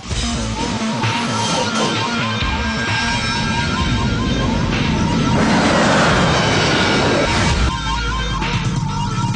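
Y2K turbine superbike ridden hard by a stunt rider, a loud continuous roaring whine that swells and shifts as it passes, filling the whole stretch.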